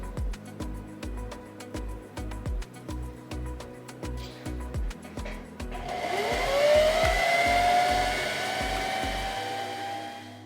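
A Singer Heavy Duty 4423 sewing machine runs in short rhythmic bursts, then spins up into a continuous rising motor whine as its bobbin-winding spindle turns, all close and clear.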